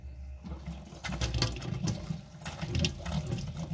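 Cold water runs from a tap into a stainless steel sink in a 2004 Swift ACE Award caravan, a steady close splashing flow lasting several seconds with no talk.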